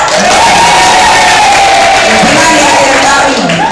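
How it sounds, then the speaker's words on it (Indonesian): A school audience applauds and cheers after a group presentation, giving continuous loud clapping with shouts and whoops. Voices call out over the noise. "Tepuk tangan semuanya."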